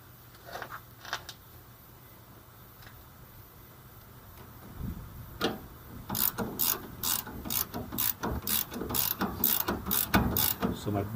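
A ratchet wrench clicks as it tightens the rear shock bolt on a 2003 Ford Ranger, with sparse faint clicks at first, then a close, fast run of sharp ratcheting strokes building in loudness.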